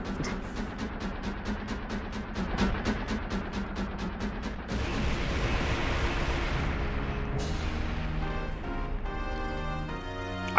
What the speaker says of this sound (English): I forgot it was like the loud explosions like that.